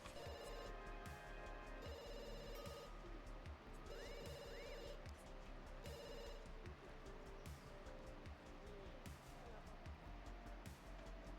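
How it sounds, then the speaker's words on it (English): Ringing telephone in The Sims 2 computer game, a repeated electronic ring that sits steadily under game music and a voice talking throughout. "Someone needs to answer the phone right now."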